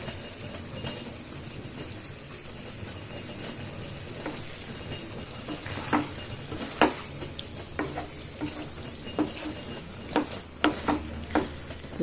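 Taro root (chamagadda) sizzles in a pan while being stirred for a tomato curry, with a steady frying hiss and scattered scraping clicks of the spoon that grow more frequent toward the end; no one speaks.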